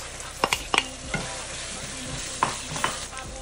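Carrots go into a hot pan for pancit and sizzle steadily, with a few sharp clinks and scrapes of stirring breaking through the soft frying hiss, close and fairly quiet.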